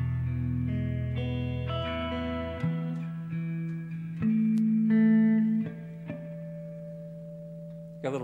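Electric guitar with reverb ringing out sustained notes and chords, a warm low drone under brighter plucked tones that decay and overlap, close and fairly loud with no talking.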